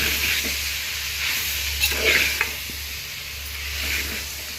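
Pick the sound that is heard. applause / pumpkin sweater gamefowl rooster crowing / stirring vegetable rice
stirring vegetable rice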